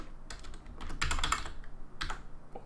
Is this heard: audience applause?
no